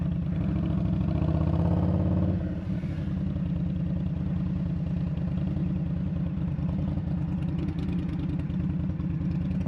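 A cruiser motorcycle engine throbs steadily close by while riding, rising slightly under a bit of throttle early on, then settling into an even, low rumbling idle-like beat.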